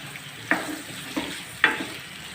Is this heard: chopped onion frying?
yes